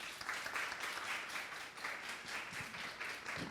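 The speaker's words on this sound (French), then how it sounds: "Sur vos applaudissements." Rhythmic, pulsing applause from an audience at a career-advice event in Haiti, clapping in waves that swell and dip, fairly close and lively throughout.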